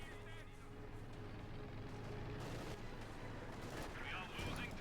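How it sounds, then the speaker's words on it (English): Soviet ZiS-3 field gun shells strike a German Panther tank amid continuous battle noise in Company of Heroes 2, with booming gunfire and explosions layered under steady commentary. "Direct hit here from the Sis-3 field gun, penetrating the Panther's 80mm of sloped armour"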